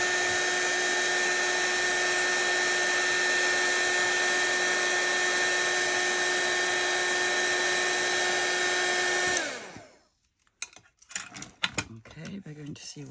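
A heat tool blows loudly and steadily while melting wax onto paper, a constant whirring drone that cuts off sharply near the end, followed by soft handling clatter.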